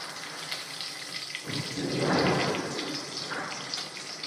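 Asafoetida and curry leaves dropped into hot oil in a kadhai, giving a sudden hissing crackle that swells and then settles into a steady sizzle.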